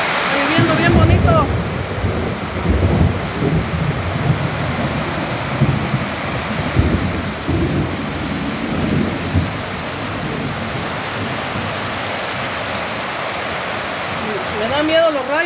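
Heavy rain hisses steadily on a ranch while deep thunder rumbles and rolls through, strongest early, then the downpour continues alone.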